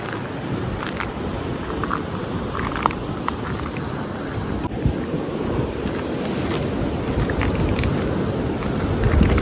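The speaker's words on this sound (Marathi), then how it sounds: "मागे पाणी एकदम समुद्राच्या लाटा जोरात उसळत आहेत" Sea waves surge and wash steadily onto Karde beach at night, a continuous broadband roar with wind buffeting the microphone, building slightly louder toward the end, with no voices.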